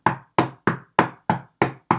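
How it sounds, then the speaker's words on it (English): Footsteps in Resistance: Burning Skies click like high heels on a hard floor, seven sharp, evenly spaced knocks in quick succession, close and dry, with nothing else heard. "Nothing but footsteps. The whole game."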